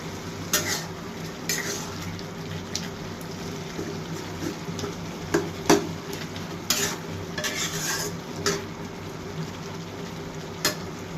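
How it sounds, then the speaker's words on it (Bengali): A spoon stirs dal chorchori in an open pan, giving repeated scraping strokes over a low, steady sizzle and a constant background hum, with no voices. "এবার আমি ঢাকনাটা খুইলে একটু লাড়া দিয়ে দিব ডাল চচ্চড়িটা"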